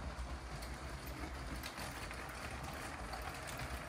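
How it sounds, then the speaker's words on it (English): A LEGO Union Pacific train runs around its track with a steady mechanical whir and faint clicking of the wheels over the rails, continuous and fairly quiet. "We've got the train coming around again here."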